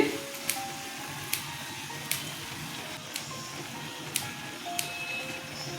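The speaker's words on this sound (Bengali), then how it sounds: "আমি লঙ্কা কুচি কুচি করে কেটে দিচ্ছি" Green chillies finely chopped with a knife on a board, about seven sharp, separate knife strikes spaced roughly a second apart over low kitchen background noise.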